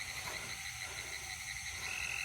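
A Cope's gray tree frog calls in a South Carolina breeding habitat, giving a faint, steady high trill that runs through the whole stretch with no voices.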